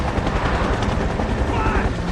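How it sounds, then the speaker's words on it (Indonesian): Loud, dense rumbling roar with a chopping texture, like a helicopter close overhead, steady throughout with a broad noisy wash. "Tak lama kemudian helikopter datang."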